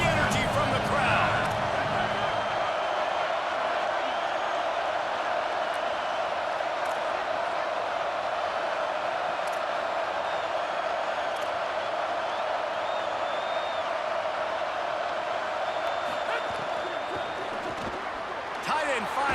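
Roaring stadium crowd in a college football video game featuring TCU, a constant loud wash of cheering that swells and holds, with a commentator talking over it.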